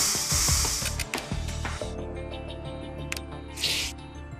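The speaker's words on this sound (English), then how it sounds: "Probably also need to spray some stuff too." Aerosol-style spray bursts in the video game Trauma Team, two short hissing sprays separated by clicking game sounds and faint electronic tones.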